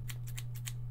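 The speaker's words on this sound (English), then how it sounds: "I got a pair of scissors." Scissors snipping in the video game We Happy Few: five quick, crisp metallic snips in an even rhythm over a steady low hum, close and clear with no talk.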